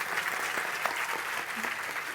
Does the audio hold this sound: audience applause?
yes